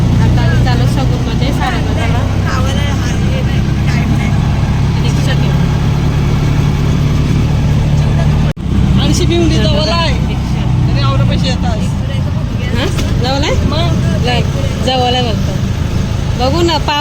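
An auto rickshaw's engine drones steadily through city traffic, with a constant rumble underneath and intermittent horns and street noise, while people talk over it throughout.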